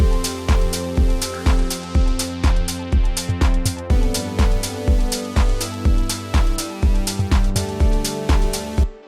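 An Oberheim TEO-5 synthesizer track pulses with a steady repeating bass and chord pattern, bright layered tones looping in a driving rhythm, loud and close.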